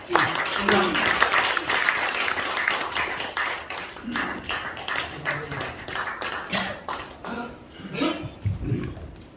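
An audience at a founding assembly applauds a Buddhist monk before his talk, with a dense burst of clapping that thins into scattered claps and fades near the end, a voice briefly heard.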